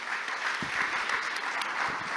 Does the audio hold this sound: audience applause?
yes